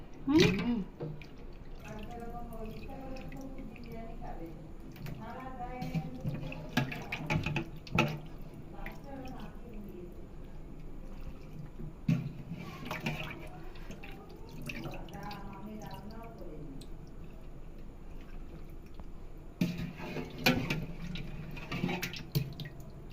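Water drips, trickles and splashes as meat, liver and gizzard, is washed and strained in a home kitchen. The intermittent splashy pours come and go under ongoing conversational speech.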